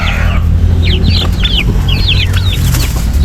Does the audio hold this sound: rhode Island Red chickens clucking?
yes